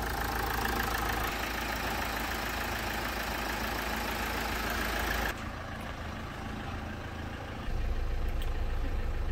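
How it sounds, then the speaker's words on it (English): An automatic Hyundai car engine idles with a steady low hum and faint rattle, fairly quiet, softening midway and then picking up again, with no talking. "Beautiful, sweet engine, automatic Hyundai engine installed."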